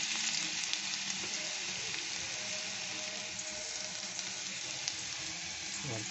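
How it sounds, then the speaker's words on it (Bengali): Garlic dropped into hot oil for an egg and roasted aubergine mash fries with a constant, even hiss, while occasional soft stirring scrapes sound against the pan. "রসুনটা একটু দিয়ে ভালো করে নেড়ে নিচ্ছি"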